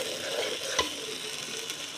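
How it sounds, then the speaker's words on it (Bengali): Spices such as cinnamon, cardamom, nutmeg and mace fry for chicken kacchi biryani with a steady, close sizzle, broken by one sharp scrape of a stirring spoon against the pot. "সব মশলাগুলো দিয়ে কষায় নিব"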